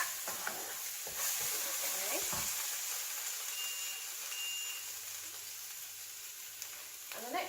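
Turmeric and spices sizzling in a pan for a chickpea curry while being stirred, a steady frying hiss with occasional scraping strokes of the spoon, close and fairly quiet.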